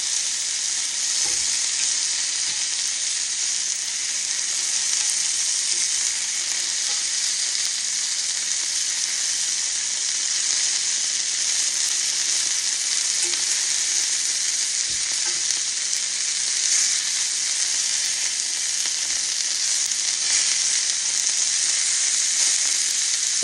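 Beef frying in a pan with very little grease, a steady loud sizzle and crackle that continues without a break and with no voices.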